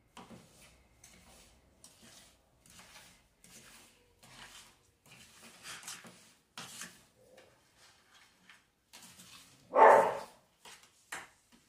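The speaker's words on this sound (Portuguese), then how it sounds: "Olha o cachorro brincando." A short, sharp bark from a playing dog stands out near the end over quiet kitchen clatter of dishes and utensils.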